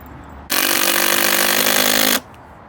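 Power driver sinking a screw at an angle into pallet wood for a planter, one loud sustained whirring burst of under two seconds, close up, with quieter background before and after and no talk.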